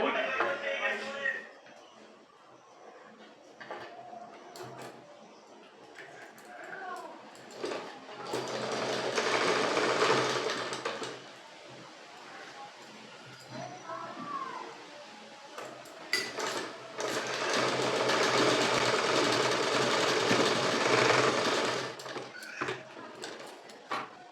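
A sewing machine stitches a cut section of a skirt while attaching its elastic waistband, running in two long, steady bursts with quiet pauses and faint talk between them.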